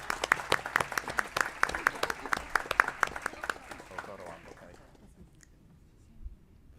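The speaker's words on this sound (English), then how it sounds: "Let's give them a round of applause." An audience applauds at a school board of education meeting, a burst of dense clapping from a room of people that lasts about four seconds before fading out into quiet.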